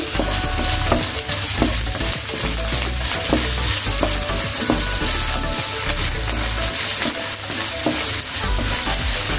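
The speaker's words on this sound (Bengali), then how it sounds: "আবার একটু নেড়ে দিচ্ছি ভালোভাবে" Ginger and garlic paste sizzles loudly in a pan with onion for a katla fish dish, while a spatula stirs and scrapes repeatedly against the pan throughout.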